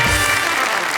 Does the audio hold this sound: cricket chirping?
no